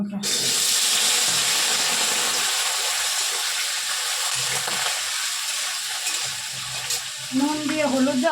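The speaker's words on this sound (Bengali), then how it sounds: "কড়াই গরম হয়ে গেছে দিয়ে আলুটা ভেজে নেবো" Potatoes fry in hot mustard oil in a kadai, a loud steady hiss that opens with a burst and settles into a constant sizzle, with a voice briefly speaking near the end.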